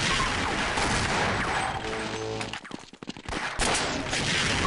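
Rocket launcher fire in a Half-Life multiplayer deathmatch, loud dense blasts and gunfire crowding the first half, a brief broken lull, then another roaring burst of explosive fire near and sustained.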